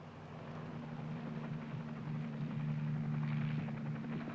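Military helicopter of a 1959 Army pathfinder team lifting off: a steady, loud rotor and turbine drone with a low throbbing hum that builds slightly in intensity, heard alone without voices.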